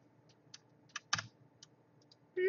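Typing on a computer keyboard during a coding session: sparse, irregular key clicks, close and quiet, with a short cluster of quicker strokes midway and a louder sound entering at the very end.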